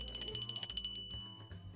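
A school bell rings in a high school classroom, producing a rapid metallic ringing that rattles for a little over a second before cutting off, close and moderately loud.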